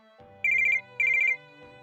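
A telephone rings in two clear bursts of rapid trilling tones, each about a third of a second long, loud and close against a quiet background with no talk.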